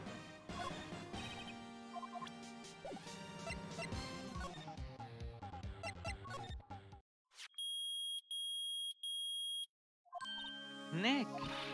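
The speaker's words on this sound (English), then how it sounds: "It's beeping. The metal detector's found something." In the Phoenix Wright: Ace Attorney video game, a metal detector gives three loud, evenly spaced electronic beeps after game music stops, then music resumes.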